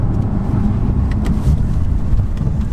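A BMW M3 F80 engine with an Akrapovič exhaust rumbles steadily at close range, a deep, metallic continuous exhaust drone with no voices.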